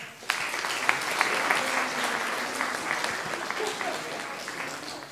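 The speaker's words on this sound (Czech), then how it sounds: "Tak ještě jednou velký aplaus." Steady, dense applause from the audience at a short-film awards ceremony in Pardubice, a continuous rattle of many hands clapping near and loud for several seconds.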